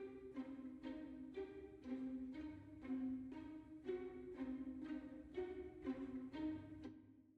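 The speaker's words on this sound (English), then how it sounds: "some shorter notes in the violins, and they're playing essentially arpeggiations of whatever chord that is in the measure" Orchestral violins play short, repeated arpeggiated figures over a sustained chord, a steady pulsing pattern of quick notes at a soft, even level, with no voices.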